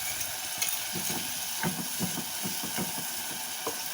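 Spice paste for a prawn curry with curd and coconut sizzles in a wok while being stirred, a steady frying hiss broken by soft irregular scrapes and clinks of the spatula.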